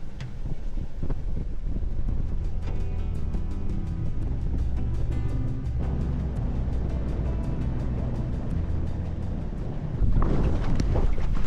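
A strong wind roars over a boat on a river during fishing. Heavy, close wind buffeting on the microphone runs throughout, joined by rapid rattling clicks and a louder gust near the end.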